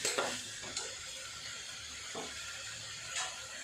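Chicken and vegetables sizzle quietly in a pan while spices are added and stirred in, with a few soft scraping strokes of the spoon over a steady low hiss.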